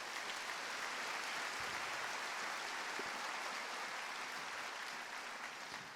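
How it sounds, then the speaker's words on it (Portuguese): A church congregation claps together in sustained, dense applause, steady and even throughout with no talk over it. "Quem pode dar uma salva de palmas para Jesus aí?"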